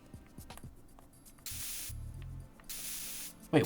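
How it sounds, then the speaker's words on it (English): Coolant spray in Metal Gear Solid 2: Sons of Liberty, two long bursts of broad, steady hissing, each lasting about a second, over quiet game ambience with a few soft clicks, with no voices. "The right stick fires the coolant."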